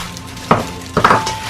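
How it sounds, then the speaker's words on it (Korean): Cabbage and diagonally sliced green onions being tossed and mixed in a bowl, two short, close rustling and clattering bursts about half a second apart. "그 다음 여기에 배추, 어슷선 쪽파를 넣고 잘 섞어주세요."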